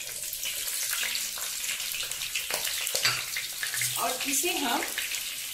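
Onion petals dropped into hot oil for chicken do pyaza set off a loud, close frying hiss that rises toward the end, with a voice speaking briefly over it.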